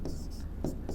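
A marker or chalk writes on a board during a class 10 maths lesson, giving short rhythmic scratching strokes, close and fairly quiet, with a pause between bursts.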